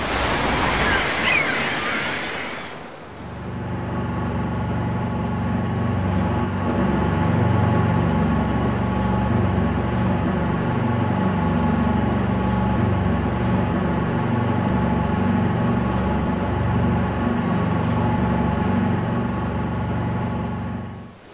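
A boat motoring across the sea toward Hurst Spit, a shingle ridge on the coast, gives a steady engine drone with wash and wind noise that runs throughout after a brief rustle at the start.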